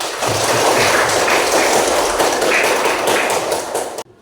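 Students in a classroom clap their hands together in a dense, continuous burst of applause that stays loud and steady before stopping abruptly.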